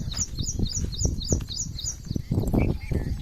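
Quick, high-pitched bird chirps repeat in a steady run through the first half over a low rumbling background in morning farmland, with a few fainter calls later.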